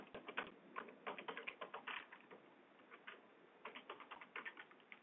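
Typing on a computer keyboard during accounting data entry, a steady run of quick, close, quiet key clicks in bursts with brief pauses, no talking.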